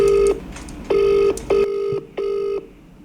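Telephone line tones after the other party hangs up, four clear steady beeps of roughly half a second each, separated by short gaps, close and loud on the handset with no talking.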